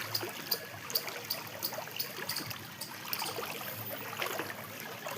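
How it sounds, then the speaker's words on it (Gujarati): Floodwater rushes and gurgles steadily in a strong flowing current, a constant close wash with small splashy bursts throughout and no voices. "જો અહીંયા તાણ છે પાણી આમ"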